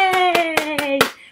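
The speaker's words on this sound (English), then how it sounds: "we'll clap our hands and sing" Five sharp, evenly spaced hand claps ring out over a sustained sung or hummed tone, as a children's play host leads a clap-along, the last clap fading into a short pause.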